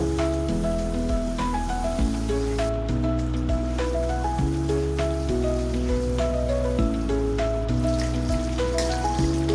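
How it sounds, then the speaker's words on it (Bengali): Eggs frying in hot oil with salt and turmeric in a karai, giving a steady crackling sizzle that runs under prominent background music throughout. "ডিম ভাজা হয়ে গিয়েছে এখন আমি তুলে নিব"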